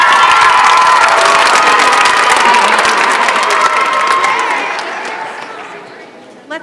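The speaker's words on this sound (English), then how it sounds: "Let's give them another round of applause" Applause and cheering from a school chorus concert audience, with children shouting over dense clapping; loud and sustained, then fading gradually toward the end.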